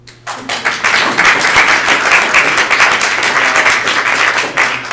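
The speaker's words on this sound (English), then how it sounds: "And now it's the time to applaud." An audience at a school board candidate forum applauds the candidates. The clapping starts abruptly, is dense and close, and continues steadily at a strong level.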